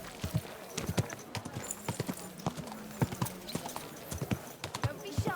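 Horse hooves clip-clopping in the video game Kingdom Come: Deliverance II, a steady rhythmic walk of close hoof strikes with a brief whinny, and someone speaking over it.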